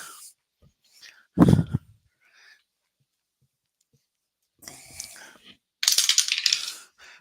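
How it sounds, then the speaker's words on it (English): Dice dropped during a tabletop APBA baseball game clatter sharply in two short bursts of rattling, close to the microphone, separated by quiet stretches and light handling noise. "And we drop the dice."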